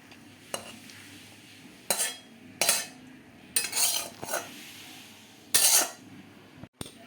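Thin pomfret fish curry with potato and brinjal is tipped out of a metal pan, with several loud bursts of scraping and pouring and clinks of a spoon against the pan, close and with no talking.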